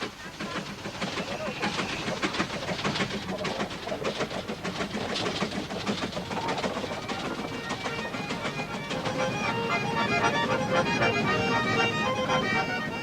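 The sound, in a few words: Rigi mountain railway train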